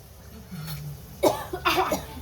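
A couple of sharp, close coughs in quick succession after a brief quiet moment.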